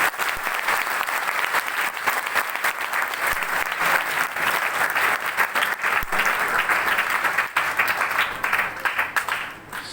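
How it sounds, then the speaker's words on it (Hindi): A seminar audience in Kota breaks into loud, energetic applause, a dense, steady wall of clapping from many people lasting about ten seconds and easing slightly at the end. "एक बार जोरदार तालियां"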